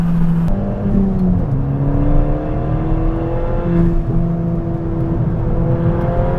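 A Ford Fiesta ST with track upgrades accelerating hard in second gear, its engine note climbing steadily in a loud, sustained rising drone heard from inside the car with no talking.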